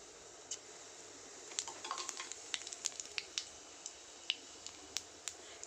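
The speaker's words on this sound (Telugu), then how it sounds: "ఇందులో ఆయిల్ వేసుకొని జీలకర్ర వేసుకోవాలి ఫ్రెండ్స్" Cumin seeds sizzling in hot oil in a home kitchen pan, a faint steady fizz with scattered sharp little pops and crackles that grow more frequent partway through.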